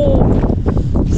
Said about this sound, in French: aujourd'hui, il y a du vent, hein, vous pouvez le voir.